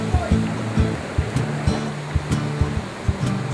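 Burayok Falls pours steadily into a cold, clear pool, a continuous broadband rush of falling water that fills the whole clip, with faint voices underneath.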